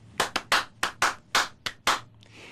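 Two performers clapping a clapping-piece pattern, eight crisp close hand claps in an uneven grouped rhythm, loud and dry with no voices.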